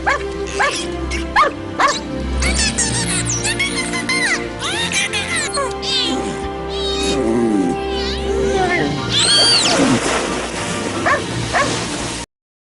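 Dog barking in a movie scene that also involves a dolphin, heard as a string of yips and barks, loud and close, mixed with whimpering and other animal calls over a continuous music bed.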